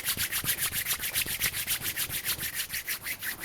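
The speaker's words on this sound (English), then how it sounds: "give these palms to rub together, creating heat and warmth" Palms rub briskly together to build heat during a yoga session, a close, steady run of rhythmic swishing strokes about six per second, with no talk.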